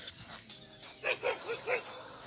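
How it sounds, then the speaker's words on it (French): A dog lets out four quick, sharp barks in a row at moderate distance, standing out over a steady background hiss. "Oh le chien m'a fait flipper."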